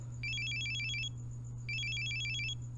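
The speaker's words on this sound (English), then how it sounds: "And then there was another call." A cell phone rings in the visual novel Steins;Gate 0, two short bursts of a bright, warbling electronic trill separated by a brief pause, steady and clear over a low background hum.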